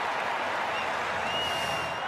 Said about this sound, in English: the crowd showing the appreciation